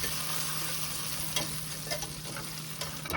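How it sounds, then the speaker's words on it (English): Butter being whisked into hot caramel in a pan for a tarte tatin gives a steady close sizzle, with faint scraping strokes of the whisk through it and no voices. "we got that butter whisked in"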